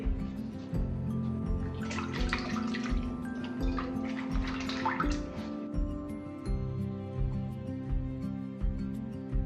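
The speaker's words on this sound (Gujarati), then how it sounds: "એક એક પાત્રા આપણે ધોઈ લઈએ ને રીતે" Colocasia (patra) leaves are rinsed one by one under running water, with a continuous stream from a tap and repeated drips and splashes as each leaf is washed.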